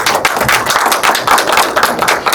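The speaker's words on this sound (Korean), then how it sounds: "이 묵인 다큐를 만든 김성묵 감독님 큰 박수로 환영해 주시면 좋겠습니다." Audience at a community screening of a Sewol ferry documentary applauding to welcome the film's director, a dense, steady wash of many hands clapping close and loud with no talking.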